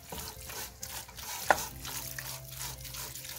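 Chili with tomatoes cooking in a pot, with a soft wet stirring and simmering bubble, a single clear spoon clink partway through, and a faint steady hum beneath.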